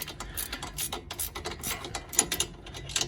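A ratchet wrench clicks rapidly and unevenly, close up, while undoing a 16 mm nut on the front sway bar end link of an Alfa Romeo Giulietta or Mito.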